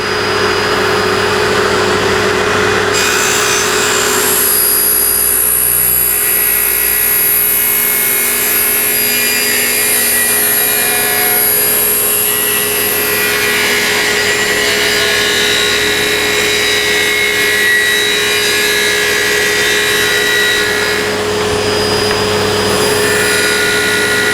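A table saw cuts timber held by featherboards and Magswitch hold-downs, a loud, steady, high-pitched whine that runs throughout with a rising cutting tone partway through, close and alone.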